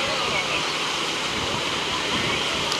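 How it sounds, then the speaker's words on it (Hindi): Fast-rising floodwater in Gopalganj, Bihar, a loud, steady broadband rush of water that fills the whole short stretch with no pauses. "अभी तो पानी में काफ़ी तेज़ी से बढ़ोतरी हो रही है"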